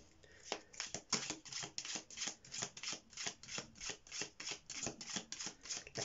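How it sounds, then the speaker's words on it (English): Tarot cards from a Rider-Waite deck are shuffled in a steady rhythm, repeated riffling swishes and soft slaps close by, with no talking. "Let's shuffle the cards"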